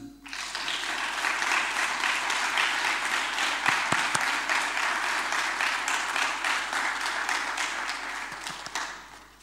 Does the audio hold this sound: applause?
yes